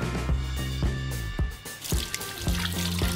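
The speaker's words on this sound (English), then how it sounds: "And I cool them under running water." Running tap water cooling boiled eggs for a salade niçoise, with splashing, dribbling and irregular drips and knocks of the eggs in a pan, heard up close without talk.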